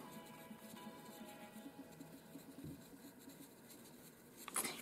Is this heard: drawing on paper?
yes